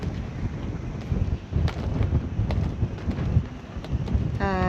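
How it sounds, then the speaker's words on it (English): Gusty wind hits a sailboat lying at anchor off Lucinda on Moreton Island, buffeting the microphone in loud, uneven rushes with low rumbling surges and scattered knocks, and a brief voice comes in at the very end. "that wind is really gusty now"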